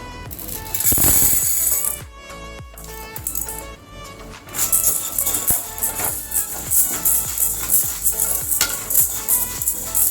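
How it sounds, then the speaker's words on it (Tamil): Chana dal dry roasts in a pan for idli podi, the lentils rattling and skittering loudly as they are stirred, with a busy, continuous rustle and scrape and no voice. "நல்லா வறுத்துக்கிறோங்க."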